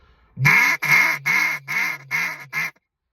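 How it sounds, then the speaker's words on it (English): A duck call gives a run of six loud, evenly spaced quacks, each one cut off sharply, sounding close and clear. "when I'm duck calling, I'm quacking"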